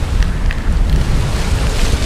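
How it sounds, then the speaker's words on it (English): Strong wind roars across a sailboat crossing the North Sea singlehanded in winter, a loud, continuous rushing buffet with low rumbling wind noise on the microphone. "The wind has picked up even a little bit more now."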